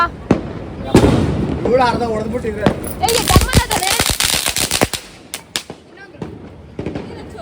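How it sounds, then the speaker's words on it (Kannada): Firecrackers burst during Diwali celebrations in a rapid, irregular volley of sharp cracks and pops, some close and loud, with voices talking over and between the bangs. "ಎಷ್ಟು ಪಟಾಕಿ ಹೊಡೆದಿದ್ದೀರಾ ಯಪ್ಪ."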